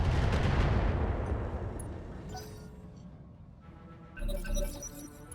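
A mech unleashing all its weapons in Roguetech, the BattleTech game, a heavy booming volley that swells at first and slowly decays, followed by scattered impacts and a later rumbling blast.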